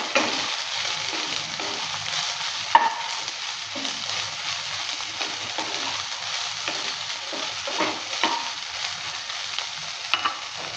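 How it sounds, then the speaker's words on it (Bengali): Soybean chunks sizzling and frying in hot mustard oil, a steady close crackle with soft scraping and stirring strokes of a spatula, no voices. "সরষের তেলটা হিট হয়ে গেছে, এবার দিয়ে দিচ্ছি সোয়াবিন। সোয়াবিনটা দেওয়ার পর নেড়ে চেড়ে নিচ্ছি।"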